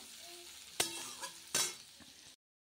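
Vegetables, potato and eggplant, fry in a pan as greens go in, producing a soft sizzle broken by two louder bursts of crackling and stirring before the sound cuts off.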